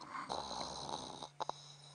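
A person imitates a lion's snore, producing a low, rasping snorting breath followed by a couple of short snorts, quiet and close.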